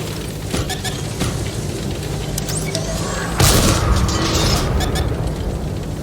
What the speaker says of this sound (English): Artillery is targeting us again.